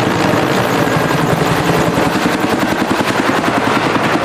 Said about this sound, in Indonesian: Wow, ini helikopter militer.